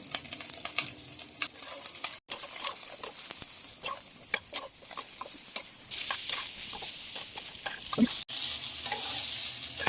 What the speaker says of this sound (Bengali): আবারও তেল দিয়ে দিয়েছি আর এবার বেগুনগুলো দিয়ে দেবো।